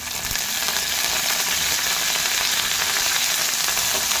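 Curry leaves crackle and sizzle in hot oil, a steady, loud, close frying hiss that runs unbroken with no voices.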